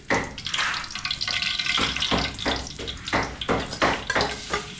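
Oil sizzles and spatters in a pan as chicken caldereta is started, with repeated stirring scrapes and bursts of frying noise heard up close and fairly quiet.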